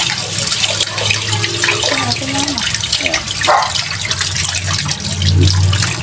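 Water gushes from a repaired water pump in a strong, loud, steady flow that splashes continuously, while someone talks briefly over it.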